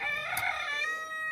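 A chicken gives a single clear, drawn-out call close by in a backyard hen run, standing alone against quiet surroundings.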